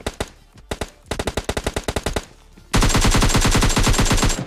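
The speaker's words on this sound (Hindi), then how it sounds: "इस फायरिंग का जवाब देने के लिए जवाबी हमले के रूप में हम भी थोड़ा बहुत प्रीफायर कर देते हैं" Automatic gunfire in PUBG Mobile Lite: loud separate bursts of rapid shots, then a sustained, even faster continuous stream of fire, close and dominant with no talk.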